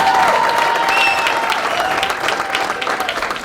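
Audience at a community awareness fair applauding loudly, a dense continuous wash of many hands that slowly tapers off, with a voice calling out briefly over it.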